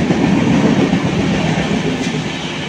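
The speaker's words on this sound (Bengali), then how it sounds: "Howrah two Guwahati Saraighat express" The Saraighat Express, running from Howrah to Guwahati, thunders past on a new rail line: a loud, steady roar of wheels and carriages with a continuous clatter, no voices.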